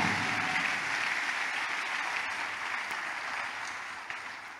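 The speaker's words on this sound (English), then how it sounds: "If you are clapping for Jesus, you can clap very well." A church congregation claps together, a dense, even burst of many hands heard close and fairly loud, continuing steadily for several seconds before easing slightly at the end, with no voices above it.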